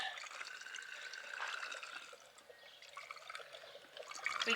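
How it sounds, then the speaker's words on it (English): Cleaning liquid poured into an RV fresh water tank through a funnel made of PVC pipe and an elbow, a steady watery trickle and splash held at moderate level throughout, without talk. "now we're going to finish pouring the other 4 cups in here."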